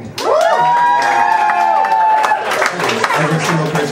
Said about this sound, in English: Do me a favor and clap if you have an iPod.